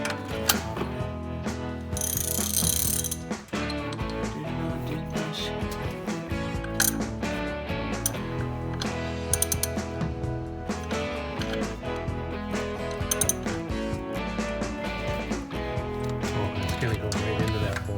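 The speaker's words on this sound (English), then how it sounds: "tighten that when I'll pull it up with the wrench." A ratchet wrench clicks in rapid bursts, tightening a bolt on a 1984 Chevy Blazer barn find, loud and close with a dense clatter of mechanical ticks throughout.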